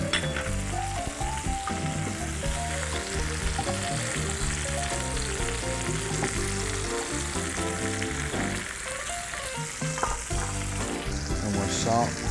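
Steak sears in a hot cast iron pan with a continuous, loud sizzle, partly masked by steady background music.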